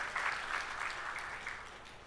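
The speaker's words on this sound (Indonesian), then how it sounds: "Ya, tepuk tangan ya." Brief, fairly faint clapping from a church congregation during a sermon, a short patter of applause that fades out.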